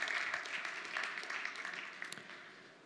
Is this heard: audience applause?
yes